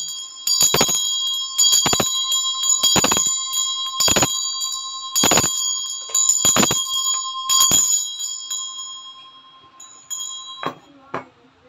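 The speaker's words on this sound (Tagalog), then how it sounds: "mag-cleansing lang ako using itong Tibetan bell" A Tibetan bell rung for cleansing strikes about seven times at a regular pace, each bright metallic hit ringing on with long sustained overtones, followed by a couple of softer taps.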